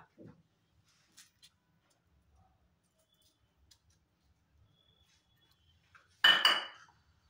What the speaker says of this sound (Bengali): এখন খুব সুন্দর করে বাদামগুলো রোস্ট করে নেব।